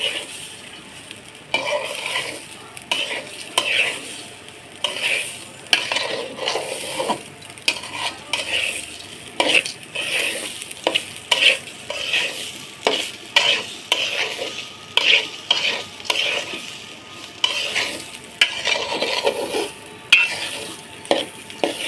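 Rice is fried in a pan for pulao with repeated scraping and stirring strokes of a spatula against metal over a soft sizzle, a close, rhythmic and uneven scrape-and-swish.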